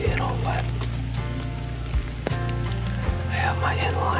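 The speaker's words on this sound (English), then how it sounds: "It's raining right now." Steady rain falls on wet leaves around a hunting ground blind in Pennsylvania woods, a continuous close hiss with a few brief knocks, over a low drone.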